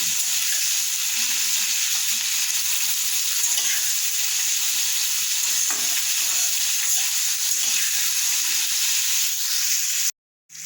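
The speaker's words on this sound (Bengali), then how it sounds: "পেঁয়াজটা আমরা হাই ফ্লেমে ভেজে নিচ্ছি, খুব লাল করব না।" Onions for a Gandharaj chicken curry fry on a high flame, giving a loud, dense, unbroken sizzle with faint stirring until a sudden break just before the end.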